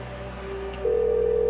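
Telephone tones, steady electronic dialing or ring tones that step up in pitch partway through, moderately quiet and alone with faint background hum.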